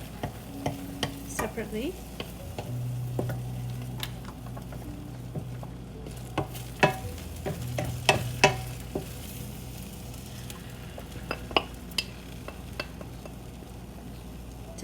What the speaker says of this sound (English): I'm going to scramble my eggs.